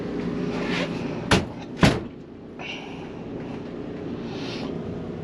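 A medicine cabinet door in the bathroom of a 2019 Gulfstream Conquest 6220 small Class C motorhome, opened and shut with two close, sharp knocks, followed by a light rattle against a steady background hum.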